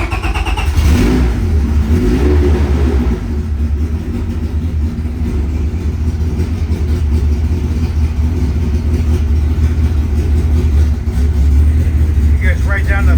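A Honda Civic fitted with an H22 engine being started, the starter churning briefly before the engine catches and settles into a loud, steady running drone, with a voice talking over it.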